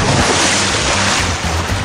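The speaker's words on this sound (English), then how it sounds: "That's the sound of cool, refreshing water as you splash into your new radiant pool from ASP" Water splashing into a backyard swimming pool in hot Florida summer weather, a loud continuous wash of rushing, spraying water with no clear break.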